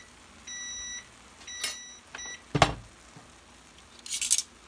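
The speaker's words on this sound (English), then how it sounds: "I'll turn that alarm off." Kitchen timer alarm beeping while pork chops and garlic butter spinach cook, a few short steady electronic beeps, followed by clinks of pans and utensils at moderate level.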